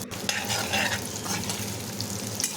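Sliced onions, including small shallots, sizzle loudly in hot oil while being stirred, with steady crackling frying and occasional scraping of the utensil against the pan for a chicken curry.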